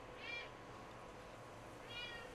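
Cat meowing in Ghost of Tsushima, two faint separate meows about a second and a half apart over a quiet ambient hush.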